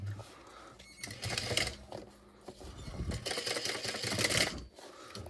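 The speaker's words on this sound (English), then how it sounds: "So I'm just going to sew a stitch for these back straps real quick." A sewing machine stitches the straps of a backpack, running in several loud, buzzing bursts of a few seconds each, separated by short pauses, with no talking.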